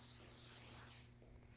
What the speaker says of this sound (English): I'm just gonna spray around on the top.